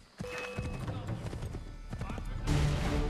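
Horse in the Assassin's Creed 3 video game, hooves clip-clopping in a rapid rhythm with a brief whinny, heard under someone talking over the gameplay.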